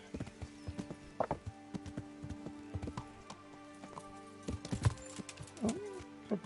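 In the video game Kingdom Come: Deliverance, a horse's hooves clatter in a quick, uneven clip-clop, fairly quiet and close, with a few sharper hoof strikes and a brief snort standing out.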